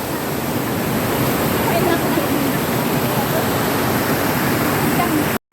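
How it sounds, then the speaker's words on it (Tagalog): A waterfall, seen from near its base after a climb up a hill, gives a steady, loud rush of falling water that fills the whole stretch without a break. "Ayun ang falls."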